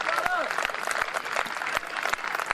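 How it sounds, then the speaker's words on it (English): A round of crowd applause at an amateur rugby league cup final as an injured player leaves the field, steady clapping from a modest crowd beneath a commentator's voice. "he comes off to a nice round of applause from the Speckies"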